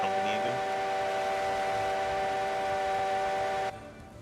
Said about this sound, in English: Nope, you're blowing the whistle.